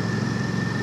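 A Royal Enfield Classic 650 motorcycle engine running in 4th gear at about 40 km/h gives a steady low, throbbing drone with a faint whine above it, close and continuous with no voices.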